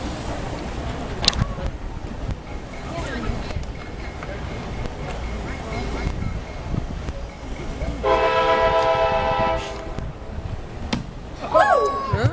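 A train horn sounds from some distance at a county fair during an axe-throwing event, blaring steadily for about two seconds. It rises over crowd noise, scattered thuds and people talking.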